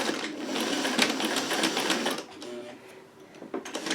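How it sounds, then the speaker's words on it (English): A sewing machine back stitching, its motor running in a steady, close, fast whir with short pauses and restarts toward the end. "And now I'm going to back stitch."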